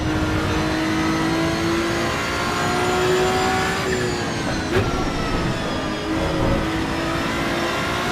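A Ferrari 296 GT3 race car engine revs hard in Assetto Corsa EVO, a loud, close, continuous howl that climbs in pitch, drops briefly at a gear change midway, then pulls up again.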